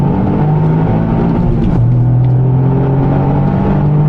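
Engine of a Toyota GR Yaris Sebastian Ogier Limited Edition heard from inside while driving, a loud, steady droning rumble whose pitch dips and then holds as the gears change, with no talking.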